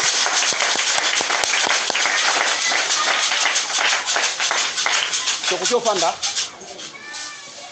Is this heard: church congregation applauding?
yes